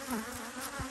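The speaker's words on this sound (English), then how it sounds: "come on bees, get off" Honeybees swarm close around an apiary beehive during hive work, their buzzing a steady droning hum with individual insects swooping nearby. No talking.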